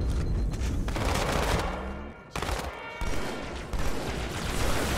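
Gunfire from the Halo 2 video game, with the player using a pistol: loud bursts of rapid shots with brief gaps, followed by further volleys, near and harsh with no talk.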